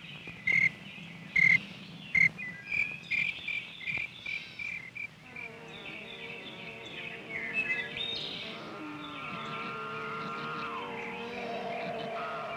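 Crickets and other insects chirping outdoors among trees and flowers, sharp rhythmic pulsing trills at first, then a dense continuous high-pitched chorus with overlapping calls.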